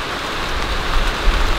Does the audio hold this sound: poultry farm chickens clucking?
no